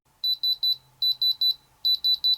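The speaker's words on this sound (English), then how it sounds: "If it's real, it'll beep." A diamond tester probe on a real diamond gives three bursts of rapid electronic beeps, each a set of three short high-pitched tones, close and clear, with brief pauses between sets.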